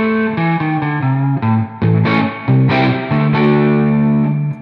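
Distorted electric guitar played through a Seymour Duncan P-Rails humbucker with an Artec BCU effect switched on, a short phrase of picked notes and ringing chords, loud, close and unaccompanied.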